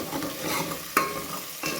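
Mustard seeds, curry leaves, onion, garlic and dried red chillies sautéing over a full flame for a greens kuzhambu, a steady sizzle with stirring scrapes and one sharp clink partway through.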